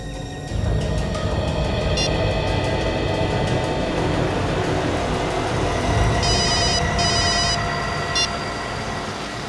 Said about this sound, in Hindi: अपने मोबाइल से उसे फोन लगाओ